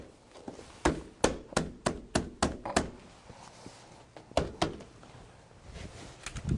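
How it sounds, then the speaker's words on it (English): A series of dull wooden taps as a door bottom is tapped into place, evenly spaced, then a pause and a few more knocks, close and fairly sharp. "Simply tap the door bottom in."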